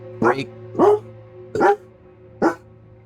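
A dog barks four times in loud, evenly spaced single woofs, close by, over a steady low hum.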